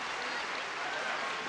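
An audience applauds a school play in the film Dead Poets Society, a steady, even wash of clapping from a crowd at moderate distance.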